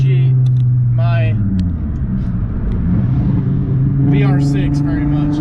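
A Volkswagen VR6-engined car drives with a low, continuous engine rumble while people talk over it in bursts.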